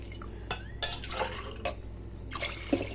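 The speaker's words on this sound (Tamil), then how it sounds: "1 கப் அரிசிக்கு 2 கப் தண்ணி ஊற்றுங்க." Water poured into a pot of spiced yogurt mixture for chicken biryani, two cups per cup of rice, with liquid splashes, drips and clinks of metal utensils and cookware.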